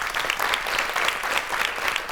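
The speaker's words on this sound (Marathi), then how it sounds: "एकदा जोरदार टाळ्या." Children in a television studio clap together in loud, continuous applause, a dense, even patter of many small hands lasting a couple of seconds with no voices over it.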